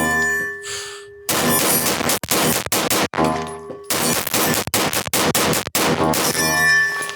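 Loud handgun shots at a shooting competition, fired in fast bursts of sharp cracks with brief pauses between strings, close to the microphone and with no talking over them.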